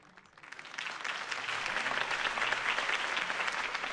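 Crowd applause after a campaign speech in a Batman game, clapping swelling up from quiet within the first second into a steady, even roar of many hands that holds to the end.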